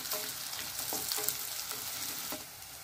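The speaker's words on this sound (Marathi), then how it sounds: "शिमला आपल्याला यामध्ये छान अशी फ्राय करून घ्यायची आहे।" Capsicum (shimla mirchi) frying in a pan gives a soft, continuous sizzle with occasional light scraping taps of stirring, fairly quiet and close, with no talking.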